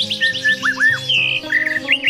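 A white-rumped shama (murai batu), a songbird kept by a bird trainer in a Lampung village, sings a varied run of clear whistles, trills and quick chirps, close and prominent over a low steady background hum.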